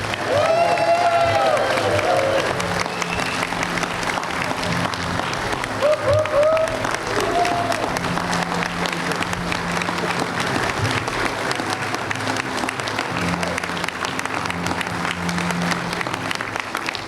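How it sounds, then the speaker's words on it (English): Sustained loud applause from a large convention crowd, with some cheering and voices mixed in throughout. "Let's hear it for past NEC Burley Hannah Jr."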